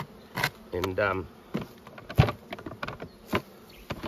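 Honey bees buzz around an open beehive during a mite check, with faint scattered buzzing and a few brief close passes beneath quiet, intermittent speech.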